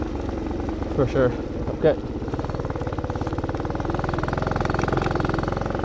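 A dirt bike engine runs in the snow, a close, rapid putter that keeps a steady rhythm with a couple of brief revs. Someone speaks briefly over it.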